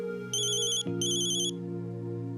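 A phone ringtone plays in two bright electronic bursts over a steady low tone, loud and close, with no talk.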